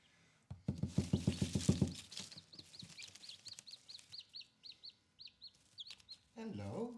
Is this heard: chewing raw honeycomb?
no